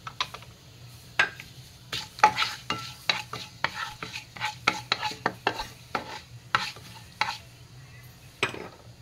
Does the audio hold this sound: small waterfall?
no